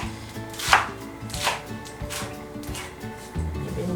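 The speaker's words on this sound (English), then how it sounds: "So we're just gonna do a rough chop on these two." Beet greens being roughly chopped with a knife on a cutting board: several uneven thuds and crunchy cuts, close and distinct, spaced irregularly over a few seconds with faint background music.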